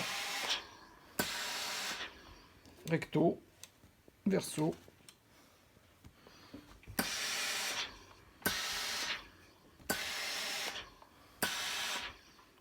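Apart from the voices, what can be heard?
steam generator sterilizing paper masks, front and back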